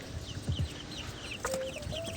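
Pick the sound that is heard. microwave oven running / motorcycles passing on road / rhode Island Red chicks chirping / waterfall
rhode Island Red chicks chirping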